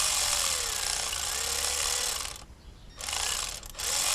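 A ratchet spins cylinder head bolts in during a Toyota 4Runner, T100, Tacoma or Tundra head gasket replacement. Loud, close, rapid clicking runs in long bursts, broken by two short pauses.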